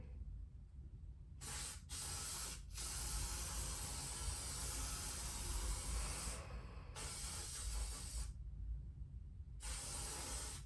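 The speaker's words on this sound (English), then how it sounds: "we're gonna use a little bit of spray" Several hissing bursts from a spray bottle, short puffs and then longer sustained sprays separated by brief pauses, close and fairly quiet.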